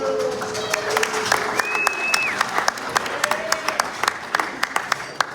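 An audience at a live stand-up comedy show applauding as a comedian takes the stage, dense sustained clapping with scattered whoops and cheers, close and loud, while a host's voice talks over it at the start.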